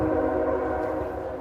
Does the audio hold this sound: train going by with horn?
yes